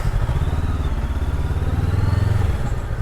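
A 2025 Honda CBR 500R engine thumps steadily with a deep, pulsing exhaust burble, loud and close, as the bike rides along without talk.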